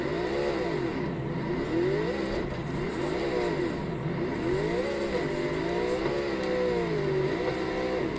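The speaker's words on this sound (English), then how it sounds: "I'm gonna drive my car all over." A car engine revs up and down in repeated rising and falling sweeps while driving, loud and steady throughout with no talking.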